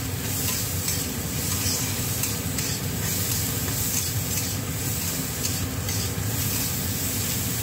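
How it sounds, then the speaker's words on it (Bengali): Eggplant fries with salt in a pan, a continuous sizzle with stirring scrapes running steadily throughout, close and fairly loud. "লবণ দিলে বেগুনটা একটু তাড়াতাড়ি ভাজা ভাজা হবে"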